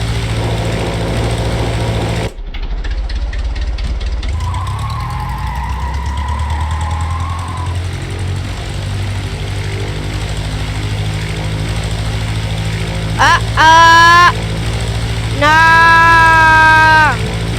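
Airplane engine stalling in the video game Brick Rigs, a loud steady mechanical drone that cuts abruptly, then shifts into a sputtering, wavering tone with harsh tonal bursts near the end.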